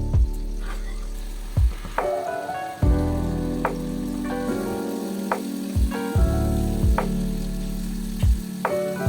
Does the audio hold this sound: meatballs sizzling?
yes